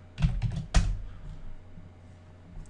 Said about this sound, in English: I'm going to type this exactly